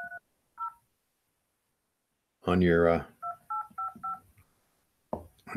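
Telephone keypad tones ring out in short bursts, a couple at the start and then a quick run of four, alone and crisp, separated by a brief burst of speech.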